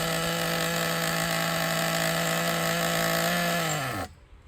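A Traxxas Nitro 4tec .15 nitro RC car engine runs at a high, steady buzzing whine close by, then quickly winds down and cuts out at the end.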